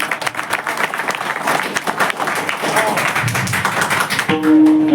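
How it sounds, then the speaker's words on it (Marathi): A crowd at a kirtan applauds, loud dense clapping filling the space steadily for several seconds, with a sustained tone entering just at the close. "त्यांच्यासाठी टाळी वाजवा."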